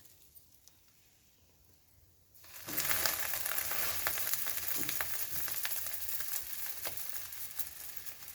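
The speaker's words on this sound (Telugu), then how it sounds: "ఈ బ్రెడ్ తీసేసుకొని ఇదే ఆయిల్లో ఇంకొక బ్రెడ్ రోస్ట్ చేసుకోవాలి." Bread roasting in hot oil in a pan, a quiet start giving way to a loud, steady sizzle of frying that continues to the end with small crackles.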